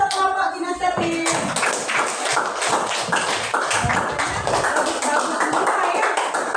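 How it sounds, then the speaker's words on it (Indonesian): Classroom of students clapping for a group of classmates, a quick burst of rapid, rhythmic claps fairly close, with some voices underneath. "Tepuk tangan untuk kelompok kinestetik."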